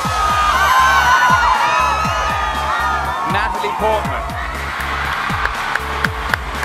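A big convention crowd at the Disney D23 Expo roars and cheers loudly under an announcer's amplified voice, with a thumping beat in the background and scattered whoops.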